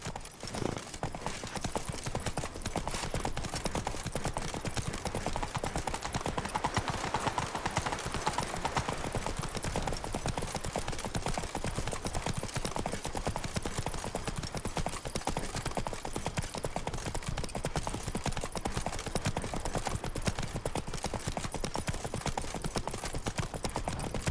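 Steady clip-clop of Roach the horse's hooves in The Witcher 3: Wild Hunt, a continuous trotting rhythm running loud and close throughout, with no talk over it.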